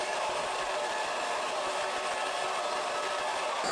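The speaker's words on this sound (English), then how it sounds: "I am going to just blow dry this" Hair dryer blow drying hair on medium heat: a steady, even whooshing roar held close by and unchanged from start to end, with no talking.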